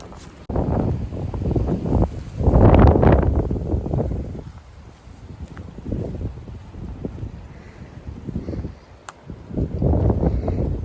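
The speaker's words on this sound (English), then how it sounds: "It's really windy." Strong wind buffets the microphone outdoors on a hike, roaring gusts rising and falling in loud waves with quieter lulls between them.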